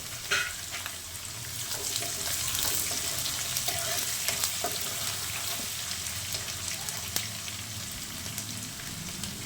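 Onion and cluster beans stirred and fried in a pan, a steady close sizzle with scraping stir strokes throughout, no talking.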